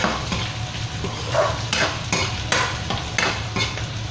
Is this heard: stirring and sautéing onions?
yes